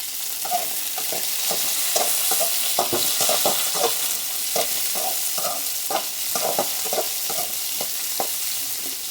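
Ingredients being dry-roasted and stirred in a pan for a Bangalore-style mochai kottai (field bean) masala kuzhambu: steady close sizzling with repeated scraping stirs in an irregular rhythm throughout, and no talking.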